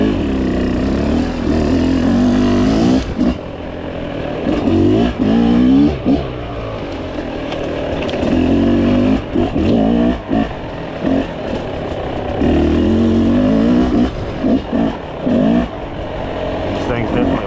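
Dirt bike engine on a Christmas Eve trail ride in Casey County, Kentucky, revving loudly and repeatedly in surging bursts with strong low-end rumble, close to the microphone, with someone talking between revs.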